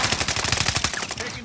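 Rapid automatic gunfire in a Call of Duty match, a tight burst of repeated shots lasting about a second, loud and close.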